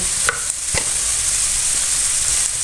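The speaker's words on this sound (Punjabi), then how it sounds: "ਹੁਣ ਆਪਾਂ ਪਾਵਾਂਗੇ ਇਹਦੇ ਵਿੱਚ ਗਾਜਰਾਂ ਥੋੜਾ ਜਿਹਾ ਗਾਜਰਾਂ ਨੂੰ ਸੇਕ ਲਵਾਵਾਂਗੇ" Carrots sautéing in a pan for vegetable pasta give a steady, fairly loud sizzle and hiss, with a few brief stirring scrapes near the start and no voices.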